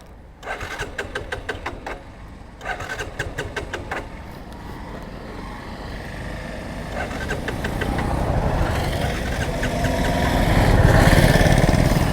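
A Suzuki Gixxer motorcycle with a carburetor cranks in two short rapid bursts, then catches and settles into a running engine that grows louder and rougher toward the end, close by with no talking.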